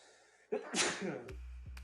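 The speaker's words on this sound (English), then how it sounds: "I'm trying to like hold this sneeze in." A single close sneeze bursts out after a short quiet moment, followed by a low hum and faint clicks.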